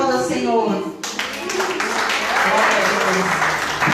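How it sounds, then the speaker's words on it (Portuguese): Applause breaks out during a women's church worship service, dense clapping filling the space after a spoken line, steady and fairly loud across the clip with voices mixed in. "Aplauda ao Senhor."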